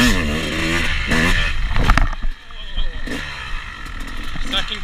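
Yamaha YZ250X two-stroke dirt bike engine revving and bogging on a hard whoop track, rear wheel spinning in dirt; loud and close, the revs rising and falling with scraping clatter as the bike struggles, with a rider's voice over it.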